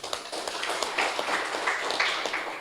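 Faint, distant applause from a gathered audience gives a continuous patter of many hands clapping, fairly quiet and with a few murmuring voices underneath.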